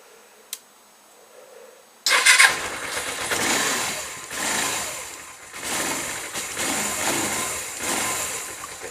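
An older vehicle on a GS project, MOT still valid, is started on a freshly charged battery: a sharp click, then the engine catches at about two seconds and settles into a loud, steady run with slight surging revs.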